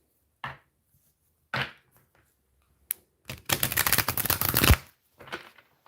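A deck of tarot cards shuffled by hand in a quiet room, with brief riffles and taps followed by a dense, crackling burst of card flutter lasting about a second, then a softer final riffle.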